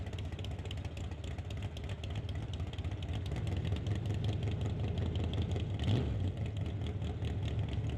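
Scott Robinson's Rad Torque Systems Chevy Beretta doorslammer drag car idles steadily in the water box at a drag strip, a continuous low rumble with a brief surge near the end.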